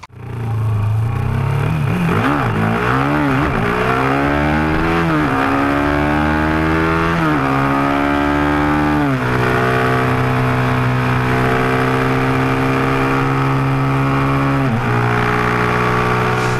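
A loud 2013 KTM 390 Duke motorcycle engine revs up and down repeatedly, rising and falling in pitch before settling into a steady high drone, very close.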